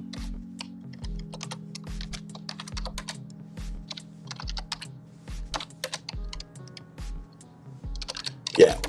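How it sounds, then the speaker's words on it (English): Fingers type on a computer keyboard in quick, uneven bursts of clicks, close by, over a steady rhythmic low thump of background music. "this is why I need a new keyboard"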